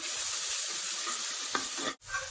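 Ground masala frying with small onions in coconut oil for a mutton gravy: a close, steady crackling sizzle with a brief stirring scrape near the end.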